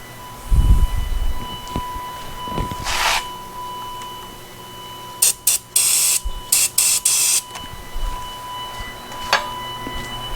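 Several short hissing bursts of brake cleaner spray in quick succession, close and loud, over a steady background hum.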